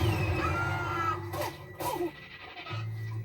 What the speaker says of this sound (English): A sneeze forces air out of your nose real fast